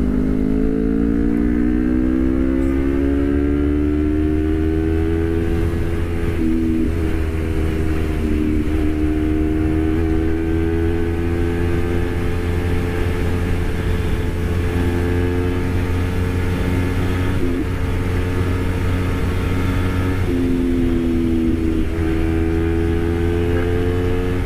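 A Honda CBR250RR motorcycle at full throttle on an open road screams with a sustained high-revving engine whine, pitch climbing and dropping through gear shifts, loud and close throughout without talk.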